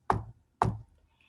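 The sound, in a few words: knocking on a door during a story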